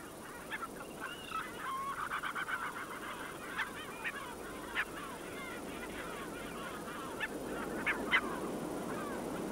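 Kelp gulls and smaller grey gulls call from a nesting colony in the Falkland Islands. A dense, continuous chorus of overlapping honking and yelping cries builds steadily, with some louder individual calls standing out near the listener.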